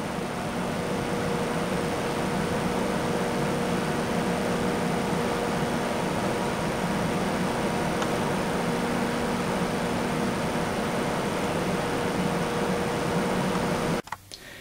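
Steady, even whirring hum of a Cougar CF-V12HP 120mm computer case fan running continuously at 12 volts at close range, with a faint tonal whine and a brief knock at the end.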